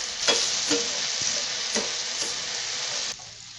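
Chopped onion sizzles steadily in hot oil for a banana-flower fry, with a few scraping stir knocks from a spatula; a continuous close, fairly loud hiss that cuts off abruptly near the end.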